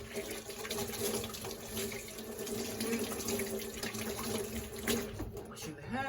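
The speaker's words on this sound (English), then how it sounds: "Washing the hand, that's what you're hearing." Hands washed under a running kitchen tap produce a steady, close rush of water splashing into the sink, continuous throughout, with a faint voice at times beneath it.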